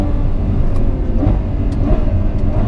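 A Ferrari 812 Superfast engine rumbles steadily while the car is driven, a loud, continuous low drone that holds its level the whole time, with no talking.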